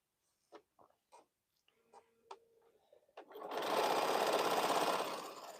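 A sewing machine starts up after a few scattered clicks and handling noises, then runs steadily and fairly close at a fast stitching rhythm during a quilting session.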